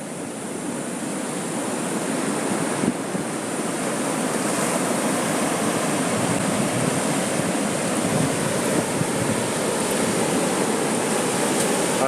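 Ocean waves break at Avellanas Beach, a rocky shore with surfers out, as a continuous broad roar of surf, steady and fairly loud, with no voices over it.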